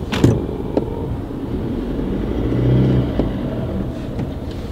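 Steady engine rumble and road noise from inside a 2.2-litre Isuzu D-Max driving around Sydney, with a few light clicks and knocks over the continuous low drone.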